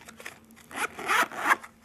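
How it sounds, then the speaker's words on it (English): A smooth YKK zipper on a Maxpedition EDC pocket organizer is pulled open in a few quick, close strokes, loud and alone with no talk over it. "Really smooth YKK quality zippers."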